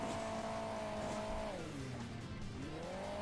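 Bus engine in the mobile racing game Hill Climb Racing 2, a steady mid-pitched drone that dips and rises again over a continuous wash of game noise, alone without talk.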